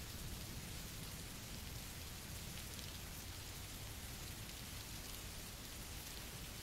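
Steady rain falls continuously, a dense, even hiss of drops with a low rumbling undertone, heavy and unbroken throughout with no voices.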